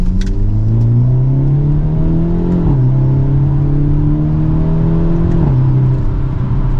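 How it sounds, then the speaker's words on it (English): A 2023 Hyundai Elantra N pulls hard from second gear, its engine note rising steadily, dropping briefly at a shift near the middle, then climbing again; loud and continuous from inside the cabin. "And from second gear, here we go."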